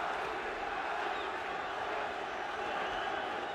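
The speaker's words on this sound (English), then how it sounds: "Prince Naseem fans in the crowd chanting Nazi, Nazi, Nazi." Boxing crowd noise in an arena as fans chant for Prince Naseem, a dense steady roar of many voices at a distance, continuous through the moment.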